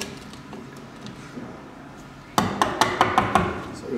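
A chisel chops out a mortice lock hole in a door edge, several sharp, evenly spaced strikes close by, following a quieter stretch of low handling noise.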